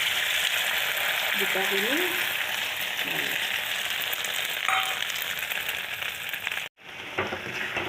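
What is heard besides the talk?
paneer omelette frying in oil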